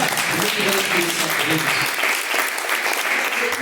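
Congregation at a church service breaks into loud, dense applause, a steady clatter of many hands clapping close by while voices call out over it.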